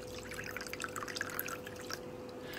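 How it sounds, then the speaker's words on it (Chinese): Water drips and trickles from a novelty floating faucet, a soft, close patter of small droplets with a faint steady hum underneath. "这个是悬浮的水龙头，"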